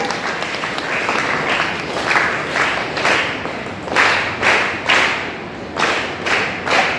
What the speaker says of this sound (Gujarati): આપણે સૌ આપણા માટે પર 3 તાળી આપીએ